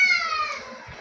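A cat gives a single short, high meow up close, begging for bread in a quiet room.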